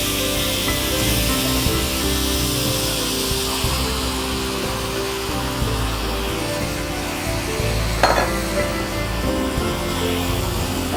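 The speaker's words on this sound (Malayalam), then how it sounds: "ചിക്കൻ അതിൻ്റെ മസാലയോടുകൂടി ഇതിനകത്തേക്ക് ചേർക്കും." Marinated chicken coated in masala sizzling in a hot pan, a steady hiss running throughout with a brief clatter partway through.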